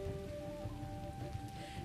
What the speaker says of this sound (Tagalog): maghapon na malakas ang buhos ng ulan dito sa probinsya ng Ilocos Norte